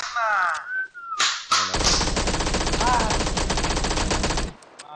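In PUBG, an MP5 submachine gun fires a sustained burst of rapid, even shots after a few single cracks, loud and close, with a brief voice beforehand.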